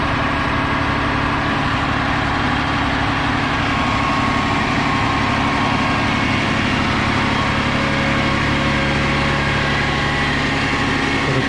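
A fire truck's engine and water pump run continuously at a steady, loud drone, a dense mechanical hum without speech.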